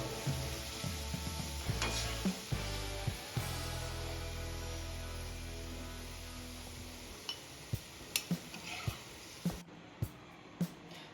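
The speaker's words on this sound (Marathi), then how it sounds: "इथे आपला कांदा पण छान ऑइल मध्ये तळलेला आहे" Onions deep-frying in oil for a chicken masala curry, a loud steady sizzle that cuts off partway, followed by scattered sharp clicks and taps of utensils on a pan.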